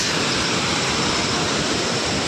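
A waterfall heard up close, a loud, unbroken roar of rushing water filling the whole scene.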